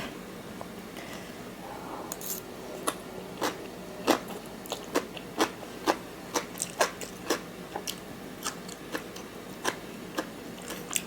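Crunchy spicy sweet potato salad, made in place of papaya salad, chewed close up, a regular series of sharp crisp crunches about every half second over quiet background.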